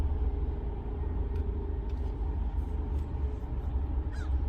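A police car driving past on a hot day, heard from inside a parked car as a steady low engine and road rumble that fills the moment, with a few faint bird calls above it.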